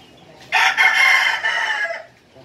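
A rooster crows once, a loud, close, drawn-out call lasting about a second and a half and heard alone over faint background.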